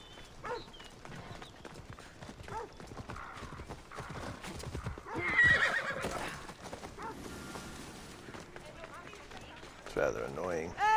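A horse gallops and neighs in Assassin's Creed Odyssey, rhythmic hoofbeats with a whinny partway through, heard under a player talking over the game audio.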